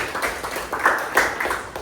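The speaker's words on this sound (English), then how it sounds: "give them a round of applause also" A classroom of students claps in a short round of applause, with uneven, moderately loud hand claps over about two seconds.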